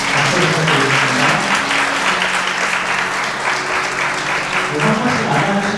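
Sustained, dense applause from wedding guests as the couple greets the bride's parents, a steady clapping wash with a faint murmur of voices and some tonal background sound underneath.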